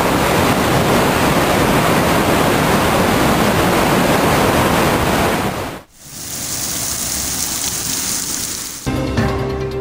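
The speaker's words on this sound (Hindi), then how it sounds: "रावलपिंडी, इस्लामाबाद और गिरदोनवाह में मूसलाधार बारिश से जलथल हो गया।" Torrential rain in Rawalpindi and Islamabad, a loud dense roar of downpour filling most of the stretch before cutting to a quieter, softer wash of rain, with no voices.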